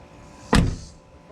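A car door swings shut once with a single solid, muffled thunk from a new door latch kit, close by and alone against quiet background, fading quickly afterward.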